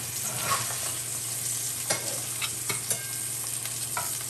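Pork belly and eggs fry in a pan with a steady, close hiss, a low hum underneath, and a few scrapes as the meat is pushed aside. No voices are heard.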